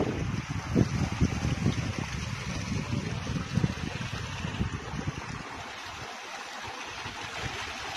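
Water flows continuously at a calm outdoor spot, a steady rushing and gurgling that stays fairly loud and close, easing slightly toward the end.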